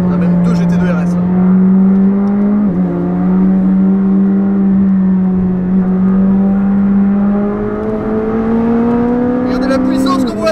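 A McLaren 765LT accelerates past a Porsche GT2 RS, its engine note climbing in a steady, loud drone that drops briefly mid-run and then rises again toward the end.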